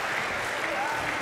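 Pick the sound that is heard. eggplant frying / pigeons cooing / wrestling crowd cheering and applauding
wrestling crowd cheering and applauding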